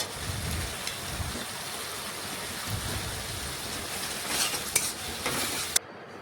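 Water hits frying mustard paste in a pan and is stirred in, giving a soft ongoing sizzle with scraping strokes and a couple of sharp utensil taps toward the end, quiet and without talking.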